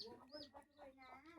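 Soft, close clucks from black chickens in a short run of throaty, rising notes, quiet overall with a faint background hiss.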